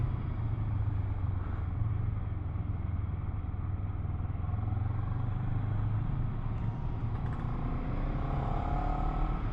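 Motorcycles and cars idling and creeping in a traffic jam, a continuous close engine rumble with low droning hum and faint clatter, no voices.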